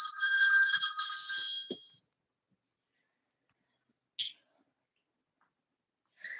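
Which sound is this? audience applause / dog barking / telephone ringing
telephone ringing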